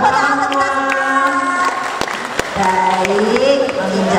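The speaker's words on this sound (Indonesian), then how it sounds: "Tepuk tangan." Applause from guests at a Syawalan neighbourhood gathering of RW 07 in Tegalrejo, Yogyakarta. Steady clapping runs throughout beneath a voice and sustained tonal sound.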